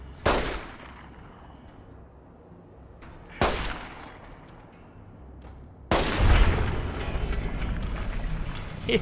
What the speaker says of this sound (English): Hit him right in the head with a pistol.